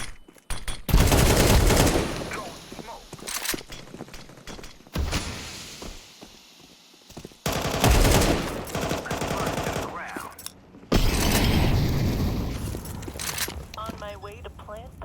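Automatic gunfire in Counter-Strike on the Inferno map comes in loud, sustained bursts of rapid shots, separated by quieter stretches of softer game noise.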